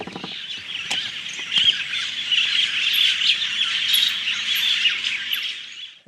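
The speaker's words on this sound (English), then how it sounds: "the sound of the birds calling, it's almost deafening. It is so loud." A dense morning chorus of birds calling near a camp, loud and close, with a shrill sustained wall of squawks and chirps and a few sharper calls standing out over it.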